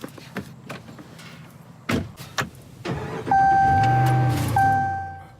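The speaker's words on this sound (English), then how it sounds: "Let's hop in my truck and go for a ride." A pickup truck door thunks shut, followed by an engine cranking and starting into a steady idle, with a chime sounding inside the cab.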